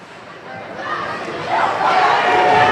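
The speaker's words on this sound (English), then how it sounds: "All this near side, lots of shouting from the crowd" A crowd at a high school hockey game shouts and yells, swelling louder over a few seconds with dense overlapping voices.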